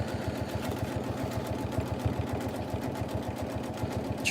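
A Janome M17 sewing machine stitching an applique, giving a fast, even mechanical clatter of stitches with a steady motor hum, close and continuous, with no voices.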